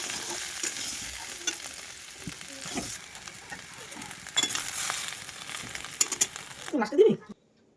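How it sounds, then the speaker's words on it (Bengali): Boiled, peeled small potatoes fry in a kadai with a continuous crackling sizzle and occasional stirring clatter, near and moderately loud, ending with a brief louder scrape before it stops. "ওইগুলোকে সেদ্ধ করে খোসা ছাড়িয়ে নিয়েছি। এরপরে ভেজে নিচ্ছি ভালো করে।"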